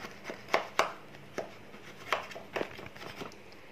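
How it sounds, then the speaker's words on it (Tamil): A knife scrapes around the sides of a baked chocolate cake made in a microwave convection oven, giving a series of short, sharp scraping strokes at an uneven rhythm, close and fairly quiet. "சைடில் இந்த மாதிரி நைஃப் வச்சு நல்லா இதை எடுத்து விட்ருங்க."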